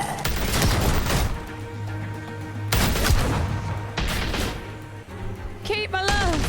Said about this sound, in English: These pendejos are shooting at me!